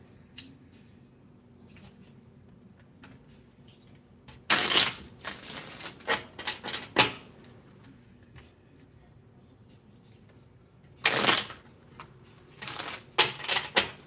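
Tarot cards being shuffled by hand in two separate bursts of quick riffling and fluttering slaps, close and crisp against a quiet room, with no talking.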